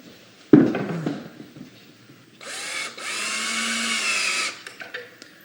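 A power drill driving 1-inch screws into a dado for a wooden window seat: a sharp knock, then a whirring drill burst that labors steadily for about two seconds before stopping, fairly close.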